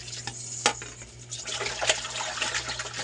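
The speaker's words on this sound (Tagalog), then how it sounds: "Hugasan lang natin dalawang hugas." Fresh pork from a just-slaughtered pig being rinsed in water, with splashing and sloshing in a basin, occasional clinks of a bowl or pot, and a steady low hum underneath.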